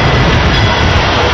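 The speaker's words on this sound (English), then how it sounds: "MARC trains race through Edgewood," A MARC commuter train races past at high speed in Edgewood, Maryland, a loud continuous roar of rushing wheels and wind up close that fills the whole moment.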